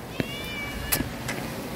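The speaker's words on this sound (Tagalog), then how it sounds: "Kawawa naman itong pusa na to." A hungry cat begging for food gives a couple of short, faint meows amid quiet outdoor background noise.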